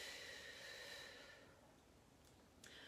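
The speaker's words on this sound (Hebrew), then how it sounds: "ונוציא את האוויר." A single long exhale during a guided breathing meditation, a soft airy rush that fades over the first second and a half, followed by quiet room tone and a faint breathy sound near the end.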